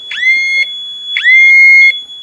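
A tamper alarm in the ceiling of a closet fort sounds two loud electronic shrieks, each rising sharply and then holding a harsh piercing tone for about half a second to a second, with a steady high whine running beneath them.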